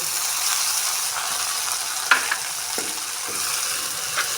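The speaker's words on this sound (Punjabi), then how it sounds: "ਜਿੰਨਾ ਚਿਰ ਟਮਾਟਰ ਭੁੱਜਦੇ ਆ" Tomatoes and onions sizzle steadily in a pan with a constant frying hiss and occasional scraping stirs and spoon taps, close and without talk.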